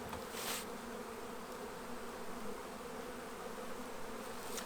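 A steady hum of honeybees flying around an apiary's hives in mild late-season weather, with one bee passing close early on and the buzzing continuing evenly throughout.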